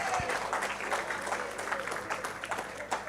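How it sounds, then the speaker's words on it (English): A banquet audience claps in a steady round of applause, dense and sustained with a few sharper claps standing out, a voice briefly audible underneath. "Give him a big round of applause."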